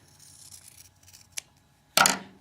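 Scissors trim quilt fabric for half-square triangles: a faint rustle, then a small snip and a louder, sharper cut near the end.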